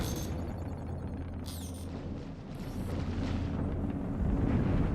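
A torpedo detonates in a video game, a deep rumbling blast that rolls on as a sustained, heavy low roar across the whole stretch.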